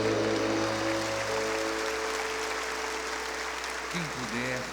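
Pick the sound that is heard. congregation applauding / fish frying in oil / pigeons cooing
congregation applauding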